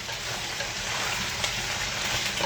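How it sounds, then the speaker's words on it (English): Dense, steady sizzle of potatoes with ramps frying hard in a pan, a close crackling hiss that holds evenly without any talking. "we're frying them pretty hard right here"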